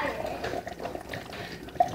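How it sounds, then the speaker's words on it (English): Water is poured into a blender, giving a short, fairly quiet trickling splash that lasts about two seconds, with a small clink near the end. "Pour the water up in that piece."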